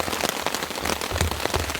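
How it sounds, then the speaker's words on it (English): Heavy rain drums close by on a campsite tent beside a campfire, a dense, constant patter of drops with brief louder splatters and no speech. "which is this heavy rain"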